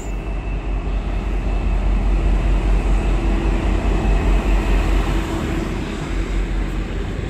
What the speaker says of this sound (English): a loco hauled service passing through platform number 4